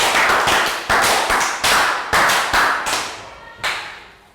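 Year 3 children clap a round of applause for a classmate, a series of sharp, loud, close claps in irregular bursts, each decaying quickly, thinning out toward the end.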